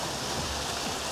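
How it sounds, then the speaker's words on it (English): Man-made waterfall at a teak museum garden in Nilambur, Kerala, heard as a steady, loud, broadband rushing of falling water with no gaps. "waterfall"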